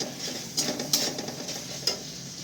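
A spoon stirs a Schezwan sauce mixture in a wok for chilli eggs, giving a low simmering sizzle broken by a few sharp scraping clinks, close by and without voices.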